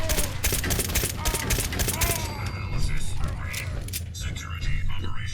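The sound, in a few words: gunshots in Fallout 4 video game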